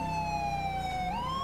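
A police car siren in the GTA V LSPDFR video game, a loud steady electronic wail that holds a tone and then sweeps upward, filling the whole clip with no talk.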